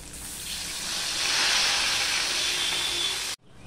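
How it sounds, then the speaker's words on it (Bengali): Bhetki fish pieces frying in hot oil for a fish kalia, giving a loud continuous sizzling hiss that swells and holds steady, then cuts off abruptly near the end. "ভেটকি মাছ মোটামুটি ভাবে ভাজবো"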